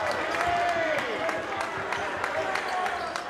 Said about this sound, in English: Listen to the crowd here at Manasquan High School.